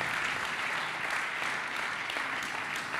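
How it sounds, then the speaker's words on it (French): Audience at a Paris housing and territories awards ceremony applauds four young talents, a dense, even wash of clapping that holds steady throughout. "4 jeunes talents à applaudir"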